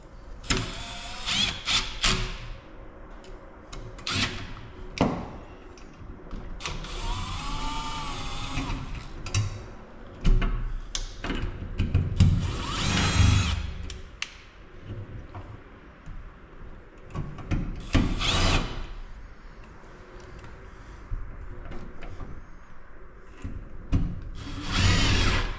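Handheld power tool loosening screws in a shop workspace, with several short whirring bursts of varied length, close and fairly loud, separated by quiet handling noises and clatter.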